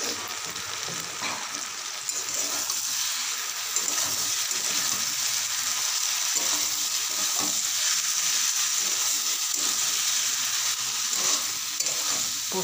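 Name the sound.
potatoes and poppy seed paste being fried and stirred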